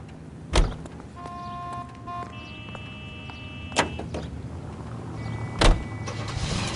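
A car in the video game L.A. Noire, its engine a low steady hum beneath three sharp thuds spaced a few seconds apart, with faint tonal interface sounds drifting in between.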